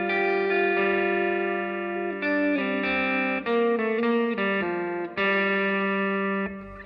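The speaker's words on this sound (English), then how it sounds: "Now, I do have my Maleco Echo analog delay in the mix today as well." An electric guitar rings out sustained, overlapping chords through a Maleco Echo analog delay pedal, changing every second or so with a smooth, full tone and no talking.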